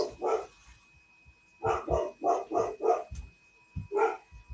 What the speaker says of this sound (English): I got people walking upstairs, so the dog's going to be barking, and there's nothing I can do about it.